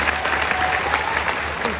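Steady applause from an audience fills the whole stretch, a dense continuous patter of many hands clapping.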